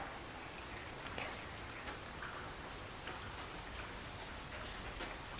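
Steady rain falls softly and evenly, a faint continuous patter with scattered individual drops, no voices.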